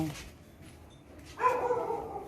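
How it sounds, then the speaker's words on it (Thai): After a quiet stretch, one dog bark sounds out, somewhat soft and drawn out, trailing off at the end. "แต้มเห่า"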